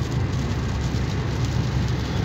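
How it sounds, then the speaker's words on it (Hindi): Heavy rain falls in Makkah near the 4th Ring Road, a dense, continuous wash of noise with a low rumble beneath it. "और ऊपर से बारिश हो रही है"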